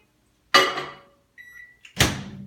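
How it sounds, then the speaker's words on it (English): A microwave oven heating a cookie-in-a-cup in a home kitchen: a loud door slam, then a steady electronic beep tone, a short click, and another sharp thud of the door or start button, all close with no talking. "Now it goes in the microwave"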